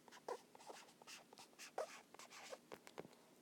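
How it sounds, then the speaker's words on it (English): Faint, scratchy pen strokes jot down a decimal number during a fractions-to-decimals math lesson, coming as a few brief, irregular scrapes close to the mic with quiet pauses between. "So I'm going to write that down."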